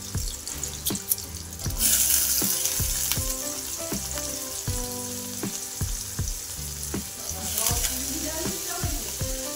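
Ingredients for fried rice fry in a pan with a continuous hiss, punctuated by regular sharp knocks of a utensil stirring against the pan; close and fairly loud, with a brief spell of running water mixed in.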